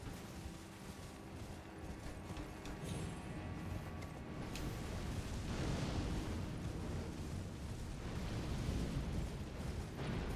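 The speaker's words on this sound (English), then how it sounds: "So I'm assuming you're doing the explosion with the fireballs." Fireball explosions from Elden Ring Shadow of the Erdtree, a continuous loud roaring wash of blasts and rumbling bursts that swells around the middle and stays dense to the end, with no talking.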